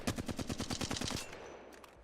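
A Flatline assault rifle in Apex Legends fires a rapid automatic burst of about a dozen evenly spaced sharp shots over a second and a quarter, then a short ringing tail fades out.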